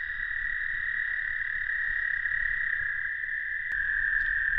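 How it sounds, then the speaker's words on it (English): Large frogs croak in a steady, dense chorus near a wet spot at night, a loud continuous trill running through the whole stretch with a brief sharp click near the end and no talking. "Those are some big frogs."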